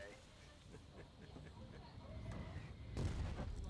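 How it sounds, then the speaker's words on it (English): Storm cannon artillery rumbles in the Foxhole war game, with repeated distant booms rolling under a low battlefield din. A heavier blast lands near the end. "Oh, our storm cannons really messed them up. Oh yeah, listen to that."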